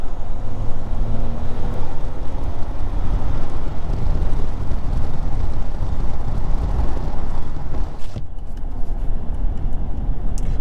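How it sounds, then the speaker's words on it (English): Heard from the cabin of a 2022 RAM 1500 Limited EcoDiesel pickup on the move, its diesel engine gives a steady, low rumbling drone mixed with road noise for the whole stretch, with a brief dip near the end. "Hearing definitely a little bit of that kind of diesel noise"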